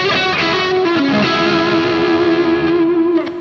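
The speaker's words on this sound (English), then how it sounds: "that is the Klon stacked with the left side of the King of Tone" Stratocaster-style electric guitar through a Klon overdrive stacked with a King of Tone pedal, a loud, sustained, driven chord ringing with rich harmonics and slight wavering, fading at the end.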